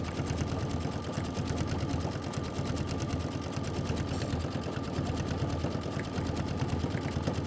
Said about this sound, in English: So we're going to leave the linen and let it stitch all of the siding.